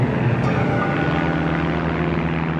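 Propeller planes circle overhead on the Nagasaki atomic bombing mission, a loud, steady droning engine roar that holds evenly without a break.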